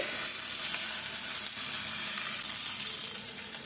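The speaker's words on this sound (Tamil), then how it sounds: "தேங்காய், சின்ன வெங்காயம் எல்லாத்தையும் போட்டு நல்லா வதக்க விடணும்." Coconut, shallots and spices sautéing in a pan for a chicken kola urundai masala, a steady close sizzle and crackle running unbroken with no talk.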